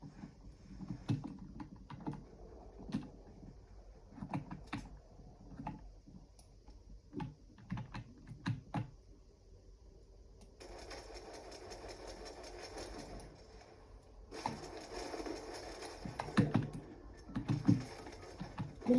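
Computer keyboard clicking in quick bursts while gaming, sparse tapping at first, then heavier typing over a louder rumbling game sound, close and unaccompanied by speech.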